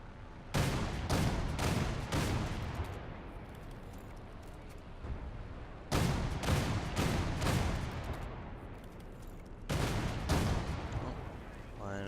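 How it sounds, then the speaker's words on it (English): Gunfire from a ZSU-57-2 anti-aircraft gun in War Thunder: three bursts of rapid heavy cannon shots, each pounding out four or five rounds, loud and near, with engine rumble filling the gaps between bursts. "And I'm being shot at."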